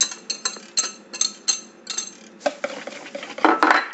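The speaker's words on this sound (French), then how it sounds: "Et on va battre nos œufs." Eggs beaten in a mixing bowl, with a quick rhythmic series of close, sharp whisk or fork clicks against the bowl, followed by a busier rattling stir and a louder scrape at the end.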